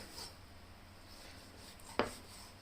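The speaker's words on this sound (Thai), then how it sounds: "เราก็หั่นค่ะ หั่นแนวขวางนะคะอย่าหั่นตาม รอยนะคะ" A knife slicing pork across the grain for sun-dried pork gives a single crisp tap against the cutting board, alone against a quiet kitchen background.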